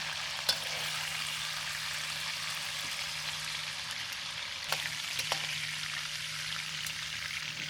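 Beef sizzles steadily in hot oil in a wok while being stirred, a continuous bright crackling hiss with a few faint scraping knocks from the utensil, close and fairly quiet.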